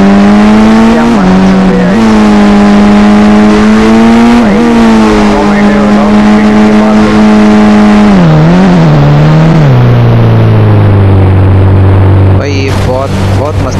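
Steady close engine drone of a vehicle driven in the Indian Bike Driving 3D mobile game, holding pitch with small revving bumps, then dropping in steps as it slows, ending in a brief burst of noise.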